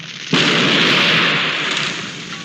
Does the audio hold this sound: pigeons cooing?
no